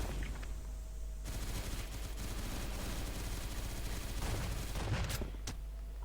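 Dense automatic gunfire and overlapping shots from the online shooter CrossFire during a team battle match, loud and nearly continuous, with sharper single bursts near the end.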